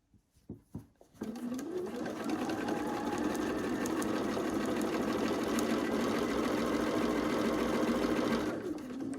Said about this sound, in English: put the presser foot down, take a few stitches